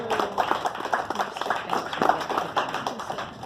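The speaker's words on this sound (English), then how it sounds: "So if we could please give them a round of applause as well" Audience at a bird conservancy friends reception at the Denver Zoo claps steadily, a moderate indoor round of individual hand claps at medium distance with no talking over it.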